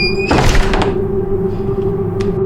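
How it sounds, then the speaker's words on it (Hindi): A door in a girls' hostel bangs shut on its own, one loud thud followed by a short ringing decay, with a steady low hum continuing beneath. "दरवाजा अपने आप जोर से बंद हो जाता है"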